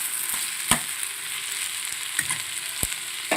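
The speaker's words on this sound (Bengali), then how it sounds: "পেঁয়াজগুলো দিয়ে দিলাম।" Onions fry in a pan for chilli chicken with a constant bright sizzle, broken by a few sharp clinks of a spatula stirring against the pan.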